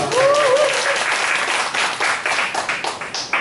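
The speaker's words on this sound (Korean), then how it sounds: "큰 박수 부탁드리겠습니다." Applause from the audience at a singer's fan club launch event, loud close clapping with a few voices and a brief whistle-like cheer at the start, fading into scattered claps.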